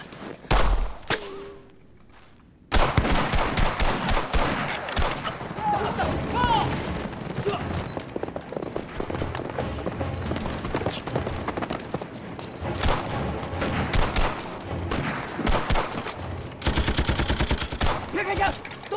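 Gunfire from a Chinese war film, with loud bursts and volleys of shots over dense battle noise and shouting voices, near and continuous after a brief quiet start.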